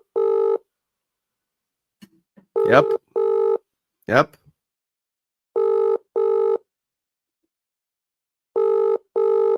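Repeated phone ringback tones sound in paired bursts while a call goes unanswered, with a brief word and a couple of sharp clicks or swishes between the rings.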